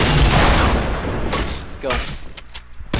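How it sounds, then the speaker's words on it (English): Rocket launcher in a video game firing with a heavy booming blast, followed by scattered impacts and rumbling debris as a voice talks over it. "Rock rocket launching right now."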